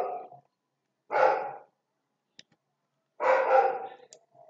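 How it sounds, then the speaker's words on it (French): A neighbour's dog barks in two separate bursts a couple of seconds apart, each a short cluster of barks at moderate distance, with quiet gaps between and a faint tick in the middle. "Et dommage, c'est le chien du voisin"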